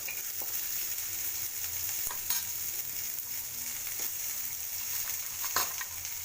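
Onion, green chilli, carrot and capsicum sauté in a pan for vermicelli upma, giving a steady sizzle with occasional stirring scrapes and no voices.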